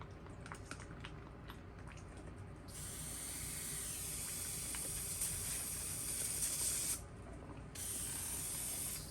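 A steady hiss of spray from an airbrush runs for several seconds, pauses briefly, then resumes, with faint clicks before it starts.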